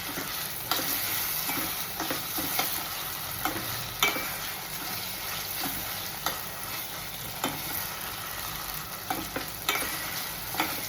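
Green chillies and tomatoes fry in a pan for an egg curry, a continuous close sizzle punctuated by regular scraping stirs throughout, with no voices.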